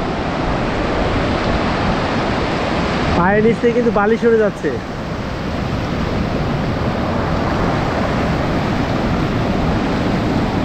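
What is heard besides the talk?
large ocean waves breaking on the beach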